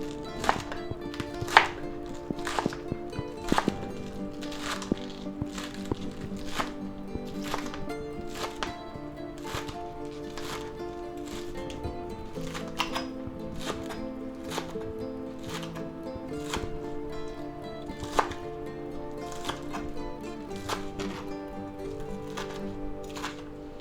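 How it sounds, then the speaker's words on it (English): A knife chops leafy celery and green onion tops on a board, dozens of crisp, fairly regular strikes over a faint tonal background, close up and without talk. "Now we'll take our leafy part and we'll cut them up nicely."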